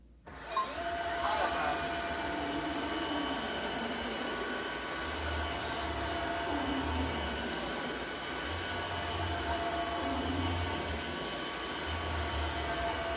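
Tineco S7 wet-dry vacuum switching on, a brief start-up followed by a loud, steady motor whine and airflow hum that runs continuously close by.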